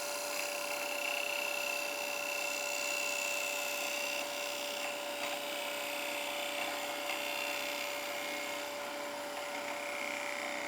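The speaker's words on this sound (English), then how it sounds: "So one more time to get below the torn grain, taking off another 1/16 here." A gouge cuts the end grain of wood spinning on a lathe, producing a continuous loud whirring hiss with a steady motor hum underneath, unbroken throughout and without talk.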